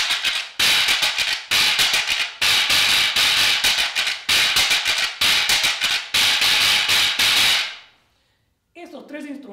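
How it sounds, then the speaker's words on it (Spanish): A quijada de burro, the Afro-Peruvian donkey-jawbone percussion instrument, gives bursts of buzzing, clattering rattles in a repeating rhythm. It is loud and close, then dies away before a brief faint sound at the end. "y la quijada de burro, que suena así."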